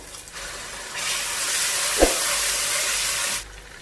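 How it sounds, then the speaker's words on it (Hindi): Water splashed into browned onions in a hot pan for a keema-stuffed capsicum dish, bursting into a loud steady sizzle that holds for a couple of seconds, then cuts off abruptly. "इसलिए हम इसमें थोड़ा सा पानी ऐड करेंगे। जस्ट 1 से 2 टेबल स्पून।"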